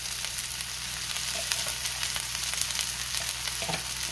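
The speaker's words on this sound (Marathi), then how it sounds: "आणि पुन्हा 1 मिनिटभर चांगलं परतून घेऊया आणि आता कोथिंबीर घालूया" Finely chopped coriander with chana dal being sautéed in a hot pan for chutney, giving a steady close sizzle with occasional soft scrapes and pops of stirring.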